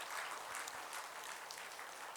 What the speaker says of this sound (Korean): 우리 박수로 환영했습니다.